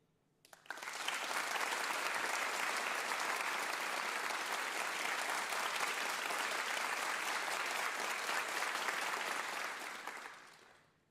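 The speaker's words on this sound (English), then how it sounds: "I want to record audio only of you applauding two different ways. One, a long one of just applause" A long stretch of audience applause recorded on its own for a WoodSongs music broadcast, dense and even clapping from a full room that swells in quickly, holds steady for ten seconds, then fades.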